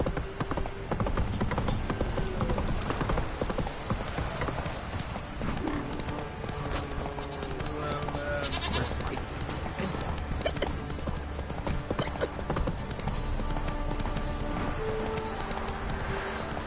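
Horse hooves clip-clopping steadily at a trot in the Witcher 3 video game, loud and continuous over ambient game sounds, with a brief whinny and no talk.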